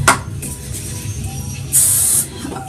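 Big Sexy Hair Spray and Stay hairspray sprays in one short, close, loud hiss lasting about half a second, with a faint click before it.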